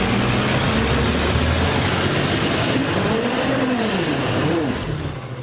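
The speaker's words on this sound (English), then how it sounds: "This city garbage truck struggled to get up a back alley near 105th Street and 98th Avenue." A city garbage truck labours up a snowy back alley in Edmonton, its heavy engine droning loud and steady with rising and falling revs, straining the whole time before easing off slightly at the end.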